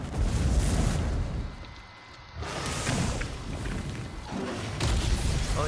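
Super shot attack blasts during a Fatalis fight in the Monster Hunter video game: loud, heavy booming rumbles with a short lull in the middle before the roaring resumes.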